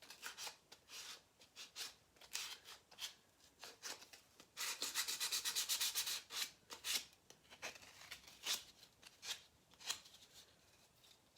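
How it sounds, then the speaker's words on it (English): Sandpaper rubbing down the edge of a paper cutout, a series of quiet, close scratchy strokes with a longer burst of rapid rubbing in the middle, with no voices. "I'm just going to kind of rub it down a little bit with the sandpaper."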